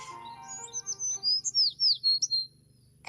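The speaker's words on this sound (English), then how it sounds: "It's a sparrow chirping nearby." A sparrow chirps in a quick series of bright, high tweets, close and clear, against a quiet background with a low hum.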